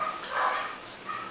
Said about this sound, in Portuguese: Escutou a cachorrada?